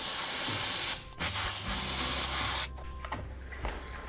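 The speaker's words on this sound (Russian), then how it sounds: "Продуваю от пыли." A strong hissing blast of air clears dust from a hole drilled into an apartment wall for radiator mounting, two long loud bursts separated by a short pause, then a quieter fading hiss.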